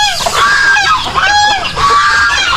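Farm geese honk loudly and repeatedly in a close, overlapping flock, harsh nasal calls rising and falling without pause over faint background noise.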